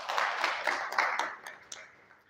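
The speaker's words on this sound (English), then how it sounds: "let's give them a round of applause" Audience at a Zimbabwe Anti Sanctions Trust media briefing gives a short round of applause, a brisk patter of claps that fades out within a couple of seconds.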